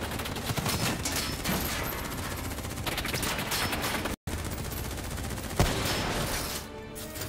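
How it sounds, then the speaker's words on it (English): Dense gunfire in Call of Duty Black Ops 3, a continuous rattling fusillade of rapid shots filling the scene, broken by one brief dropout and a single sharp crack before it fades. "Who's shooting?"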